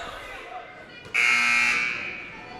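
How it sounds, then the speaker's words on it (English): A scorer's table buzzer at a girls' high school basketball game between Hiland and Indian Valley in Ohio, blaring loud and sustained after a brief lead-in, over gym crowd noise and a broadcaster talking. "Late buzzer coming in from the scorer's table."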